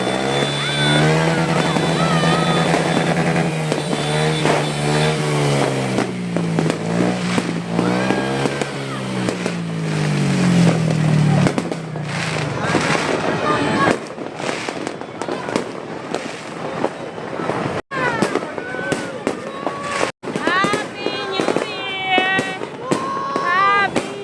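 Fireworks bursting outdoors at a New Year celebration, a dense continuous crackle and roar of blasts with sharp louder bangs near the end, mixed with music, voices and passing motorbike noise.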